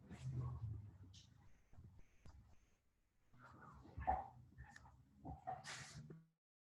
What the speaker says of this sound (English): My dog is growling.